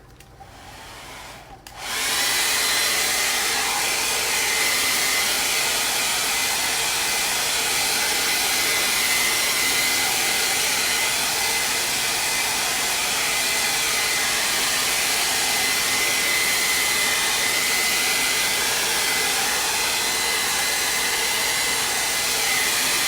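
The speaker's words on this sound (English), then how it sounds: "I'm gonna hit this with a blow dryer" A blow dryer runs steadily for over twenty seconds, drying a painted design on a gallery wall project, a loud continuous whoosh starting abruptly after a short quiet moment.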